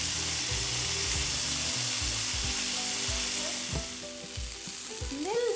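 Corn frying in butter in a pan gives a loud, steady, close sizzle that continues throughout, with faint stirring and no voices.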